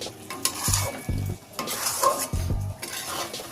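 Carrot halwa (gajorer halua) being stirred in a pan, a spoon scraping and clinking against the metal in uneven strokes over a soft sizzle, close and moderately loud with no talking.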